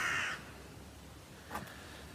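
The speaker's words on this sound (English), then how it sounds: "Every time I want to film something, the flipping crows kick off." Crows caw outdoors, one loud harsh call at the start and a fainter caw further off about a second and a half later, over steady background hiss.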